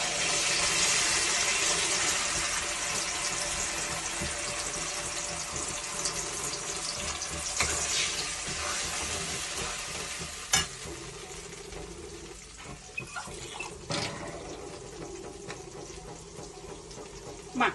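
Black and yellow mustard paste sizzles in a hot pan with a steady, bright frying hiss, stirred now and then, with a few sharp utensil clicks and taps later on.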